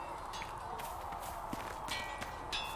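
Horse hooves clip-clop at a walk in Dragon Age Inquisition, a steady soft rhythm of light taps beneath a constant background bed, with no talk.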